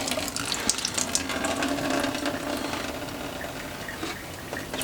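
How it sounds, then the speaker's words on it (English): Water pours from the top of a fish tank canister filter into a sink, a continuous splashing trickle with a faint underlying hum and small irregular clicks and drips over the flow. "Drain the water out of the top."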